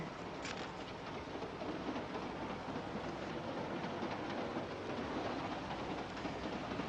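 A moving train carriage rumbles steadily with a continuous broadband roar and faint rhythmic clatter, heard from inside the car with no voices.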